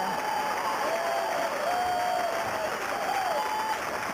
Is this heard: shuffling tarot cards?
no